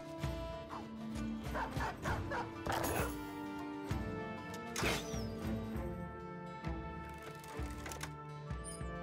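Several sharp dog barks and yips ring out in the Battle Brothers video game, fairly faint, mixed with clanking mechanical game sounds and brief whimpers.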